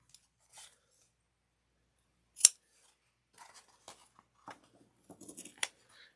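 Scissors snip the fabric corners of a coffin-shaped wallet, a few separate quiet cuts spread out with pauses, one sharper snip standing out in a quiet room.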